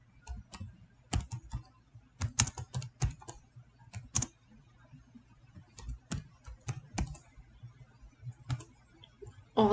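Keystrokes on a computer keyboard, typed in irregular bursts of sharp clicks with short pauses between runs, close and clear with no one talking.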